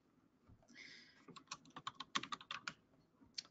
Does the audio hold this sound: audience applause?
no